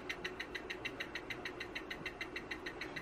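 A handheld 3D printing pen's small motor clicks in a fast, steady train of sharp ticks, about six per second, close up and alone over a faint low hum.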